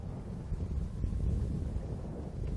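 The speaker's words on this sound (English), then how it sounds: "The wind's blowing so hard, it's blowing us off the spot, and the spot is very small." Strong wind buffeting the microphone on a fishing boat out on open water, a steady low roar throughout with no talk.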